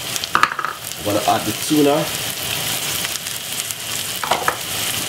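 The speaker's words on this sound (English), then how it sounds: "it is frying up" Food sizzles and fries steadily in a pan with occasional stirring scrapes, while a person speaks briefly over the cooking noise.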